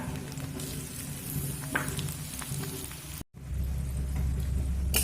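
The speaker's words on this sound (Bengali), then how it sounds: "লঙ্কাটা দিয়েও আমি এক মিনিট মতো ভেজে নিয়েছি" Green chilies with ginger frying in a pan, a steady dense sizzle with a brief dropout, then resuming with a low rumble underneath.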